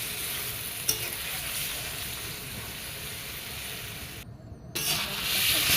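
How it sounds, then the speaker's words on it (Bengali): Fried potato and eggplant sauté with spice paste in hot oil for a pabda fish curry, giving a constant close sizzle with one sharp stir knock and a brief dropout near the end. "করে এখন সাঁতলে নেব"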